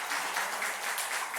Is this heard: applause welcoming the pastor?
yes